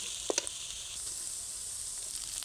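Cooked rice and snake gourd fry in a pan with a soft, steady sizzle, quiet and close, broken near the start by a couple of sharp clicks of a utensil against the pan.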